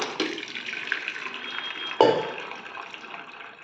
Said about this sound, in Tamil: தண்ணியே வடிச்சுக்கலாம்